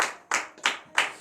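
During a morning prayer service in Benin, claps ring out at the start and then three more at a slow, even pace, each one sharp and close with a quick decay.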